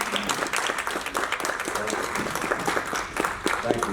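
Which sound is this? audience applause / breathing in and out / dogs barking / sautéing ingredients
audience applause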